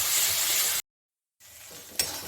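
Spice paste sizzles in hot oil for a tangra fish curry, a steady close hiss that cuts to silence for about half a second, then resumes slightly softer with a brief bright crackle.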